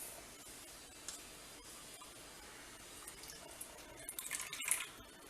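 Half a cup of water poured into a pan holding half a cup of sugar for sweet syrup in a home kitchen; a faint trickle and splash that swells briefly toward the end, with no voices.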